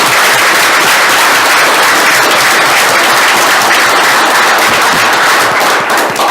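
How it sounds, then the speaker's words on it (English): Dense, steady applause from a city council meeting audience in Troy, honoring the city's firefighters, fills the room loudly and continuously without pause. "So I think it's a round of applause for all the firefighters."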